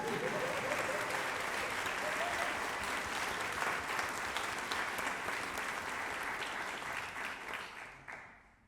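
Audience applause for the percussion section of a university concert band at a winter concert: dense, steady clapping that holds for most of the span, then thins and fades near the end.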